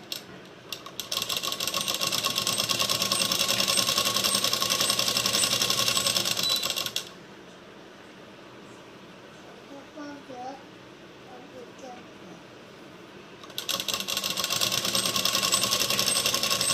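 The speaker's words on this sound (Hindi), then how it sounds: "पहले इस तरह से फोल्ड करके अब इसमें सिलाई लगाएंगे।" Close, rapid clatter of a sewing machine stitching a folded blouse sleeve comes in two long bursts, separated by a quieter stretch where a voice speaks before the machine starts up again.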